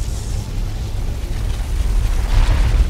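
Orbital bombardment in Dawn of War 2: Retribution lands as a loud, sustained rumbling blast, with deep low-end roar building and swelling toward the end.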